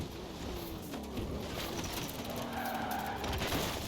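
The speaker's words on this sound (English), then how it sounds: "On the brakes, hard on the brakes." A car in the Forza Horizon 4 racing game brakes hard, its tires squealing and skidding in a long continuous screech over steady engine and road noise, with no talk.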